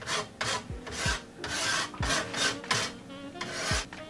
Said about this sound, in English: I'm actually going to take this old crusty hacksaw. Try to get a little bit deeper scarring on here.